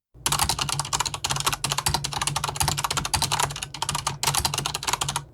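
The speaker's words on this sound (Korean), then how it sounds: "이건 체리 갈축 소리입니다." A mechanical keyboard with Cherry brown tactile switches is typed on steadily up close, producing a continuous patter of crisp clicks broken by a few short gaps, with no voices.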